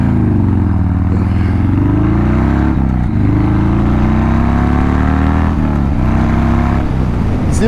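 A 1200cc motorcycle accelerating from a standstill to 60, the engine loud and close, its revs climbing in repeated rising sweeps with brief dips at each gear change, steady and unbroken throughout.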